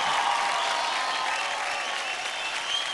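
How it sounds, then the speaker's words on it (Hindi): Loud, sustained applause from a dance show studio audience, dense and steady clapping from a large crowd filling the whole stretch without a break. "जोरदार ताली हो जाए ओम एंड अदिति के लिए।"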